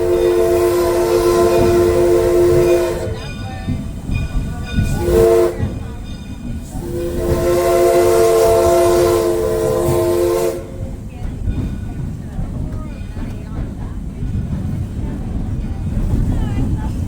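A train on the Oregon Coast Scenic Railroad near Tillamook sounds loud, sustained steam whistle blasts in two long bursts with a short toot between, over rumbling wheels and hissing steam.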